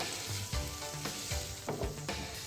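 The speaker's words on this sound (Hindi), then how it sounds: "इसको थोड़ा सा मैं इसके साथ फ्राई होने दूँगी" Tomatoes and vegetables fry in a pan as the base for macaroni noodles, with a steady sizzle broken by rhythmic stirring strokes roughly every half second.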